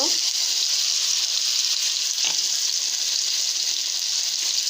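Potato and fenugreek greens fry in a pan, producing a loud, continuous close hiss of sizzling oil with a couple of brief stirring scrapes and no talking.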